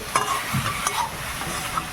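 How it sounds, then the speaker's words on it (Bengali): Tomato masala for a cauliflower roast stir-fried in a pan, with a soft sizzle under repeated scraping strokes of a spatula. The strokes come close together and no one speaks. "সুন্দর করে এবার নেড়ে নিই, ভালো করে কষিয়ে নিই।"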